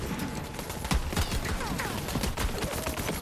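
Rapid turret gunfire in Borderlands 3 crackles in dense, continuous bursts throughout, loud and close, with scattered sharper shots layered over the steady barrage and no talking.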